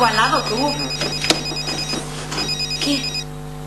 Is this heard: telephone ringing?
yes